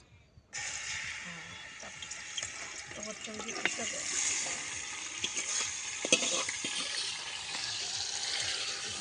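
Mutton cooks on a wood-fired clay stove, a steady, close sizzle that starts abruptly and holds at an even level, with occasional stirring knocks and faint voices in the background.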